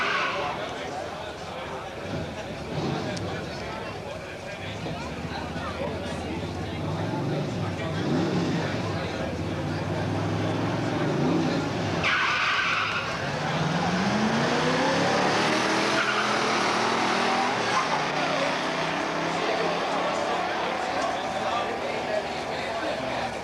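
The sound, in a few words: 1970 AMX 360 four-speed drag racing car launching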